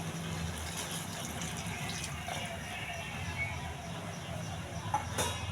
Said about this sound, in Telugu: ఇంకో గ్లాసు వాటర్ వేసి ఉడకనివ్వాలి బాగా